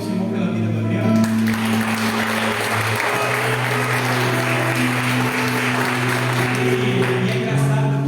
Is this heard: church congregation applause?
yes